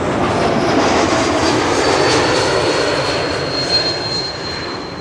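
Embraer E2 jet airliner arriving at Schiphol, a loud close engine roar with a high whine that fades slightly toward the end.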